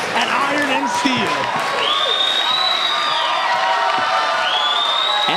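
A full-house wrestling crowd at the New Humber Arena cheers and roars steadily throughout, with whistles and shouts rising above the dense wash of noise while an announcer talks over it.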